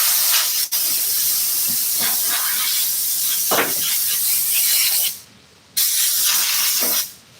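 Spray glue hisses from a can onto a car interior part in an upholstery shop, long steady bursts with brief pauses and a short gap before a final spray.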